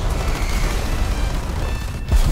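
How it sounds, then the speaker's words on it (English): A deep, rumbling explosion in the War Thunder video game, a sustained low roar with a heavier thump near the end, loud and without speech. "that was quite the dramatic explosion"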